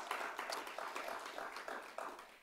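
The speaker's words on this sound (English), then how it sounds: "So I invite us all to give a round of applause to them" Audience clapping for Logan Center staff at a symposium welcome, a steady, moderately faint patter of many hands sustained through the moment with a few louder bursts.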